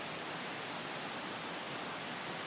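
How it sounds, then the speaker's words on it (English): A small freshwater spring flowing right beside a river, a steady, dense rush of water that stays even and unbroken throughout, with no voices over it. "A little freshwater spring close by, right next to the river."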